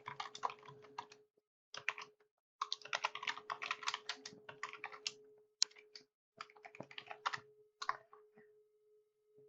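Typing on a computer keyboard, rapid bursts of clicking keystrokes in several runs separated by short pauses, close and fairly quiet with a faint steady hum beneath.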